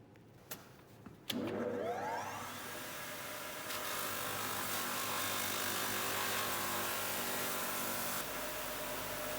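An old polishing mop on a bench grinder working aluminium from a 1967 Jaguar E-Type engine: the motor spins up after a few clicks into a steady whine, then a louder rubbing hiss as the part is pressed to the mop, no talk.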